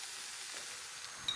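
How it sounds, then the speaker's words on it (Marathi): Ginger, garlic, onion and tomato sauté in a pan with a steady, close sizzle and soft hiss, broken near the end by a light scrape of a stirring spoon. "आता हे चांगलं परतून घेऊयात।"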